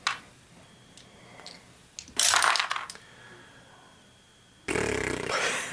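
Dice rolled during the fantasy board game Legends of Andor, two bursts of clattering tumbling on a table, a short rattle and then a longer one near the end, separated by quiet.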